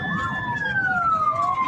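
Several police cars chase a fleeing driver with their sirens wailing loud and close, the tone sweeping down steadily over a rumbling traffic background.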